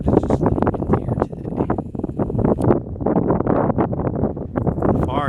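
Gusty wind on the North Las Vegas ridge buffets the microphone in loud, rough bursts, mixed with a person talking.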